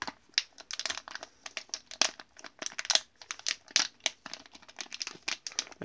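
Plastic packaging of a Lego minifigure packet crinkles and crackles in quick, irregular bursts as it is pulled open, close up with no talking.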